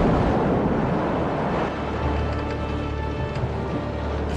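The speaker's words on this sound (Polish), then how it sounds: "Wiatr znosi nas z kursu." Wind and waves on the Sea of Galilee heard from a boat: loud, steady gusting with rolling water noise and low rumbles, continuous throughout with no voices.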